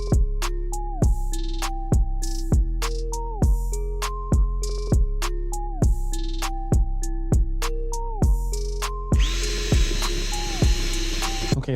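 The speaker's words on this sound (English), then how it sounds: "I'm gonna go ahead and start drilling the holes so that way I can get it all mounted up." A power drill bores mounting holes for Evo X side skirt extensions. It gives a rapid run of short, close motor whirs, each winding down as the trigger is released, then a longer harsher grind near the end.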